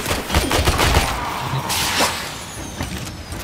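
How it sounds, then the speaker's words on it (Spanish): Rapid bursts of gunfire from weapons in the video game Warframe, loud and dense with overlapping shots that blur into a continuous crackle and hiss. "¿Quién está disparando?"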